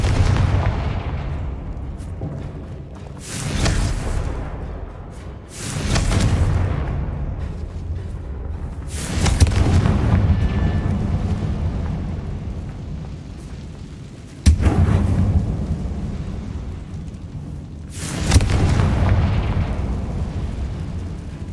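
Booming fire-spell blasts from Hogwarts Legacy erupt one after another, several loud explosions spaced a few seconds apart, each with a heavy rumbling tail that fades before the next.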